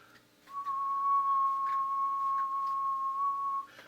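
A person whistles a single steady, sustained note into a microphone for about three seconds, loud and close, with a faint hum beneath.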